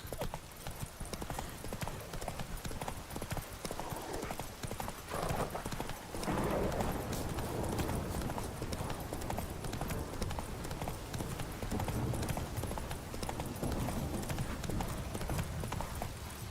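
Roach the horse galloping in The Witcher 3, a dense, continuous drumming of hoofbeats that stays loud and steady throughout, with a faint whinny partway through.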